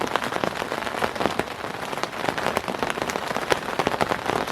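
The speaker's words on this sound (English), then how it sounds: "Just sitting here listening to the rain" Rain drums on a tent in the woods at night, a dense, steady patter of countless drops with sharper individual taps, loud, close and continuous, with no voices.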